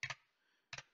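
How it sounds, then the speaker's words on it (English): Two quick pairs of computer keyboard keystrokes, close and crisp, separated by a short quiet gap. "Then I'll go ahead and type it out right now"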